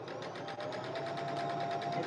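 A home sewing machine, once a daughter's and now set up for applique work, runs steadily at close range with an even rapid mechanical chatter and no talking.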